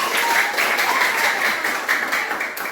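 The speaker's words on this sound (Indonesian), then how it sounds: "Tepuk tangan sekali lagi buat kita" Applause from a school audience in Nias, Indonesia, during a class observation event: steady, dense clapping from a group, sustained and fairly close throughout, with no one speaking over it.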